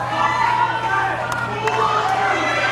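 Rowdy crowd at an Obama event in San Francisco cheers and shouts continuously, a dense roar of many voices with whoops rising throughout, loud and close.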